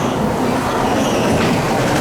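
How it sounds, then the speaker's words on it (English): A classic ghost train ride car rumbles along its rails at Great Yarmouth Pleasure Beach, a steady loud clattering roll with no pauses. "Nice classic ghost train."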